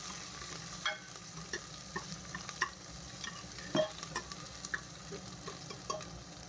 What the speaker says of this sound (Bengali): পেঁয়াজ আর কাঁচা লঙ্কাটাও এখন রসুনের সঙ্গে ভেজে নেবো ভালো করে।